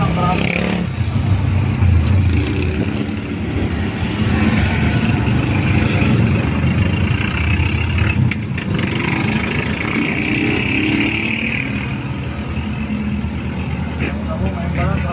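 Steady road traffic with cars and motorcycles near a stoplight intersection under construction in Binangonan, Rizal, a continuous engine rumble and passing vehicles throughout, with people talking over it.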